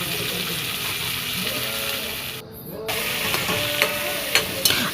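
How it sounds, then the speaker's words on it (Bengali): Potatoes sauté in hot oil with a ground spice paste for a kal baush fish curry: a steady close sizzle and frying hiss with scraping stirs, and some quiet speech in the background. "এই মশলাটার সাথেও ভালো করে আমি সাঁতলে নেব"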